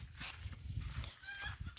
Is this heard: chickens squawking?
yes